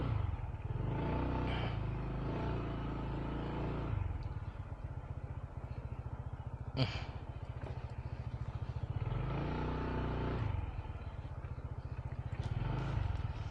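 A motorcycle putters slowly over a rocky, stony village road in the hills of Puncak, Bogor, its engine chugging low and steady with rising revs in spots and clattering jolts from the rough surface.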